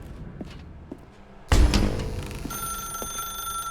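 A telephone rings loudly in the video game The Stanley Parable, a sudden sustained bright tone that bursts in midway after a quiet room and keeps ringing to the end.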